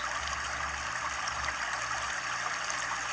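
Water pours onto the soil of a newly formed flower bed in a garden, a steady close trickling stream for a few seconds with no voices.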